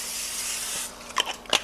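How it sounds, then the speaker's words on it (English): Great Value cooking spray hisses onto a pancake griddle in one long steady burst, followed by a couple of short, sharper sprays close by. "I'm going to spray with my favorite Great Value"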